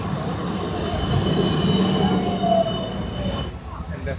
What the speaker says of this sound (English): And that's our tram, I believe, coming.